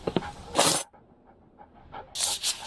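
A dog in a video game pants in quick, breathy bursts, with a short quiet gap between two clusters of rapid huffing.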